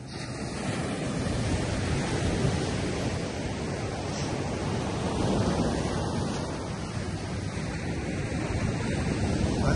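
Ocean waves wash onto a beach in a steady, loud roar of surf, with wind buffeting the microphone throughout and no voices.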